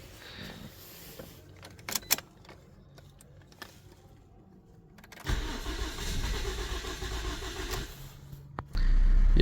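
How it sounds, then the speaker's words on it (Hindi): A Toyota Corolla Altis is cranked and started with the key, first quiet clicks and brief bursts, then the engine catches and runs at a low, steady idle that rises louder near the end. "अभी हम गाड़ी को सेल्फ मारेंगे।"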